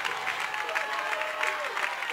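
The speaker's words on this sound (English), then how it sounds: "fans exhorting their team." Home fans at a high school football game between Eastside and Bainbridge roar and applaud continuously in the stadium, a dense, sustained crowd cheer urging their team on during a goal-line defensive stand.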